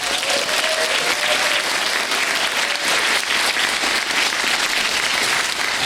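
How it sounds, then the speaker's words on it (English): A school spring concert audience of parents and supporters gives a loud, sustained round of applause in a hall. The dense clapping of a large crowd runs evenly throughout. "A round of applause for Wayne"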